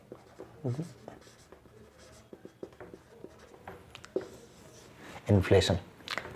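Pen or marker writing a word on a board or paper during a Hindi finance lesson, with scratchy strokes in short bursts, the loudest near the end, while someone talks over it.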